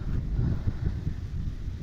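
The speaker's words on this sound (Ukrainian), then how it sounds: "вибачайте за вітер" Low, steady rumbling buffets of wind hitting the microphone, continuous throughout with no voices.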